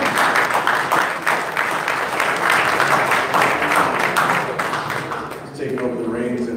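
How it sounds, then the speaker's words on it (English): Audience at a boxing show breaks into loud, sustained applause, dense clapping that dips slightly near the end before picking back up. "We can give Doug a round of applause."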